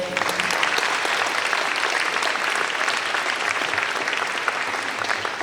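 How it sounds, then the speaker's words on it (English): Steady, dense applause from an audience at a county Teacher of the Year awards morning, a sustained wash of many hands clapping at even loudness throughout. "Round of applause to you."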